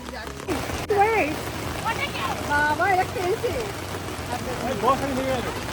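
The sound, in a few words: heavy rain at an apple farm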